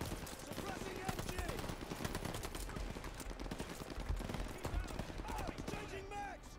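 Machine gun suppressing fire in the shooter game Vanguard: rapid, dense bursts of gunfire rattle continuously at close range, mixed with other battle noise and overlapping shouted voices.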